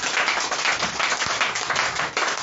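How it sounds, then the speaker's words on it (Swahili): Church congregation clapping for Jesus during a sermon on being born again, a dense, lively burst of many hands with a few sharper individual claps standing out, steady throughout. "Pigia Yesu makofi mazuri katika jina la Yesu Kristo."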